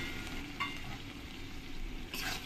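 Fried potatoes tipped into a pan of paneer masala spices sizzling in oil, giving a steady close frying hiss with soft stirring scrapes and a brighter burst of sizzle near the end.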